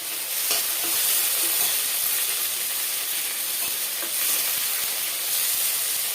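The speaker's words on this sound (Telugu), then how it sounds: "తర్వాత ఉల్లిపాయలు వేసుకున్నాము, వేగుతాయి. కరివేపాకు కూడా వేస్తున్నాను." Onions and curry leaves frying in hot oil, giving a steady, dense, close-up sizzling hiss with faint stirring ticks throughout.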